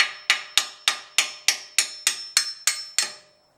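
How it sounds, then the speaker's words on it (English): A hammer strikes a strut part from a 2014 Ford Fusion ten times in a steady, even rhythm, each blow a sharp, close, ringing metallic clang that decays quickly, with no talking. "I basically just take a hammer"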